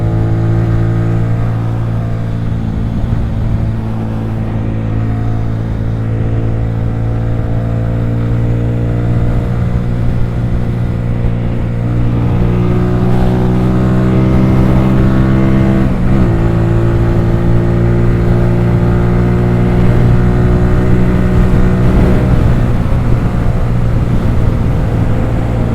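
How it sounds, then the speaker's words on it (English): An XMT 250 motorcycle runs on a highway in fifth gear at about 55 mph and 6,000 rpm, making a loud, steady engine drone whose pitch slowly climbs, with constant wind rush and no voices. "I apologize if there's a lot of wind noise."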